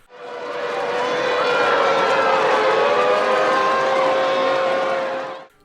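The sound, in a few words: air raid sirens in film The Day After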